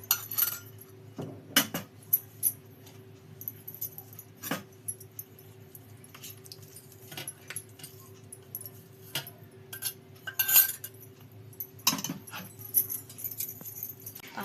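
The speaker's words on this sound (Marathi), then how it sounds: "वाटीमध्ये चक्का आणि गूळ आपल्याला एकत्र फेटून घ्यायचा आहे।" Hung curd and jaggery are whisked together in a small bowl, producing scattered clinks and taps of a utensil against the bowl in irregular bursts over a quiet background, without talking.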